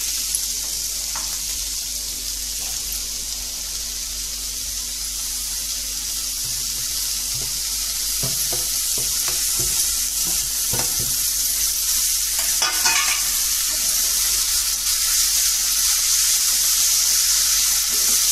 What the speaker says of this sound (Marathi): भाजी घालून घ्या, डाळ, मग त्याच्यामध्ये भाजी घाला